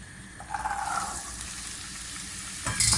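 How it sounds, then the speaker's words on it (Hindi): Boiled chickpeas frying in hot oil with cumin seeds on high heat: a close, steady sizzle with a few spoon stirs and a sharper burst near the end. "इसे अच्छी तरीके से आप ऑयल में भून लें"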